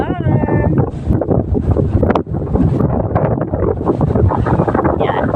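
Strong wind buffets the microphone at an outdoor hillside spot overlooking houses below, a steady loud rushing roar throughout with a person talking over it.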